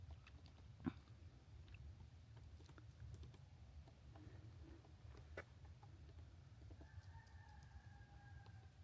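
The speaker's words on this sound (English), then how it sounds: "Hear them pecking away at that wood." Two woodpeckers peck at the wooden siding of a house outdoors in early spring, giving faint, scattered taps and short bursts of knocking at a distance. A bird calls briefly near the end.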